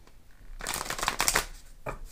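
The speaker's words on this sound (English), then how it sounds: "Do a regular shuffle up on this." Oracle cards being shuffled by hand, a short close burst of riffling and slapping that rises and then trails off with a final quick flick.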